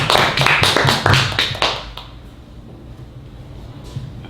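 An audience at a lecture applauding, a burst of brisk clapping for about two seconds that fades quickly into quiet room tone.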